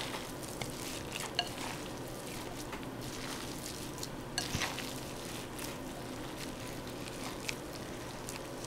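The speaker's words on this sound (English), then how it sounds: "Making sure to blend all the seasonings and the ground beef together" Ground beef and seasonings are stirred in a frying pan: a soft, low sizzle broken by occasional spatula scrapes and clicks, quiet and close, with no voices.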